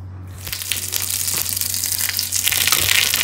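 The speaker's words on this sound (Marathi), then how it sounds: "वरून थोडीशी हळदीची मी फोडणी देणार आहे. तेल आणि राई." Mustard seeds and turmeric tempering in hot oil give a loud, steady crackling sizzle with popping bursts, close up and continuous, with no voices.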